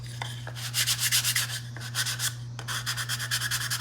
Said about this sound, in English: I've got this 220 block. I'm just gonna sand it really quickly.